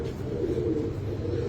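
Low, soft cooing from striped pigeons kept by pigeon fanciers in Punjab, murmuring faintly and continuously against a dull background.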